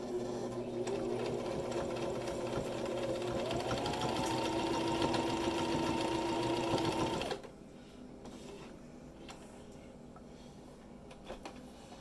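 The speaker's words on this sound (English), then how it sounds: "I'm just going to continue sewing" Sewing machine running steadily over fabric for a bag holder, a close, even mechanical whir that stops abruptly about two-thirds through, leaving quiet handling sounds.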